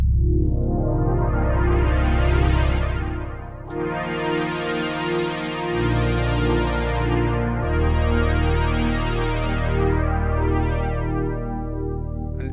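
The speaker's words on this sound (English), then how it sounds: "if you want to have an 80s type of pad sound" A lush 80s-style pad on a Roland JX-8P analog synthesizer plays sustained chords that swell and shift, with long, smooth releases and no voices.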